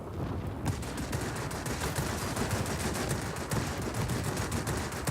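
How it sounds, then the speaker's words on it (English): Yak-3 fighter plane guns in World of Warplanes firing in a continuous rapid stream, a dense loud chatter of automatic fire that runs almost the whole stretch after a brief quieter start, with no talking. "you can see that the guns are quite effective"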